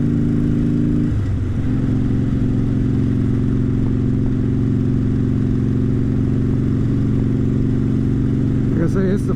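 A motorcycle cruises along a highway at night, its engine droning steadily and loudly with a constant wind-blown rumble, a brief shift in tone early on, and faint clicks near the end.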